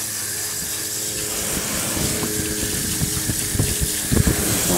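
A garden hose on its shower setting sprays water steadily over a car engine, a continuous close hiss with splashing and spatter that grows choppier and louder toward the end.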